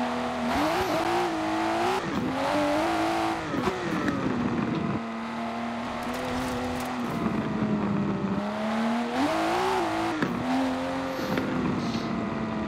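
Lykan Hypersport supercar engine in a racing game, revving hard and shifting through gears with rising and falling whines, loud and close throughout, no talk.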